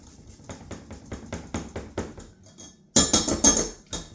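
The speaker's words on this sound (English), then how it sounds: "we're just going to grate some ginger into our sauce here" Fresh ginger rubbed over a grater into a bourbon chicken sauce, giving quick rhythmic scraping strokes about four per second, then a louder burst of harsher rasps near the end.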